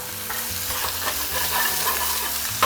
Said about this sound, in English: Careful, the fat is splattering.